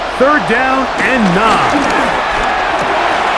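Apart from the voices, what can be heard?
stadium crowd in video game Madden NFL 26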